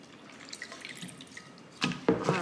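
Water from a small can drips and splashes into a houseplant pot indoors, soft scattered drops at first, then a couple of louder pouring bursts near the end.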